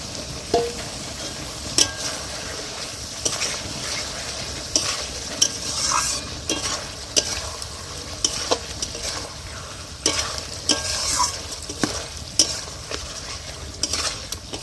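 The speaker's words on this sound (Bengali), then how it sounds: "এদিকে দেখো কড়াইতে আমি মশলাটা দিয়ে দিয়েছি। তো যেই মশলাটা করেছিলাম সর্ষে বাটা করার জন্য, সেই মশলাটা দিয়ে দিয়েছি" Mustard spice paste sizzles in a wok, stirred with a spatula that scrapes and knocks against the metal at irregular intervals, close up over a continuous frying hiss with no voices.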